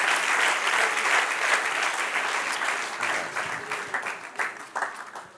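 Applause from a church congregation at the close of a sermon, a full burst of many clapping hands that is strongest at first and then gradually fades into scattered claps.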